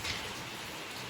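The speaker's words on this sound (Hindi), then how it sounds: "कितनी ज़बरदस्त वाली बारिश हो रही है, बहुत खतरनाक वाली हो रही है भाई।" Heavy rain pours down steadily during a storm on the road near Dehradun, a dense, even hiss with no voices.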